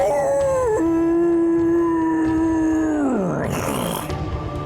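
A voice lets out a long, drawn-out, howling screech that bends downward at the end, imitating a demon's cry.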